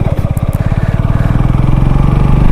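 A Keeway Superlight motorcycle pulls away hard in second gear, its close engine throbbing in a rapid, steady beat that grows louder and denser, with no pause or drop-off before the clip ends.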